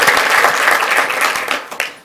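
Applause at a school board meeting honoring students and parents, a dense burst of many hands clapping that thins into scattered claps near the end, loud and close.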